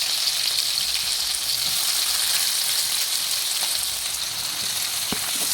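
Sliced onion and green chilli fry in hot oil with cumin and mustard seeds, producing a steady dense sizzle close up that holds evenly throughout, with a faint tap near the end.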